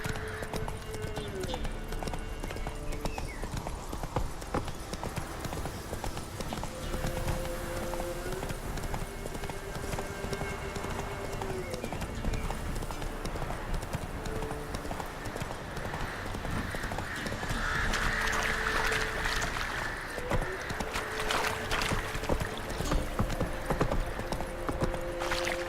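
Hooves of a horse in The Witcher 3 clip-clop at a steady galloping rhythm throughout, with occasional snorts, under game music and a character speaking at times.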